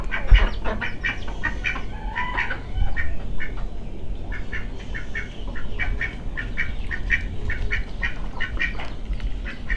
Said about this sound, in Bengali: হাঁসগুলোকে একটু দেখাই